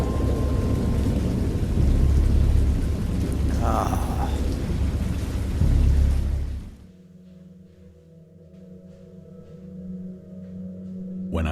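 Heavy rain and rumbling thunder roar in the VR game Dagon, loud and dense for several seconds, then cut to a quieter, muffled ambience with a low hum.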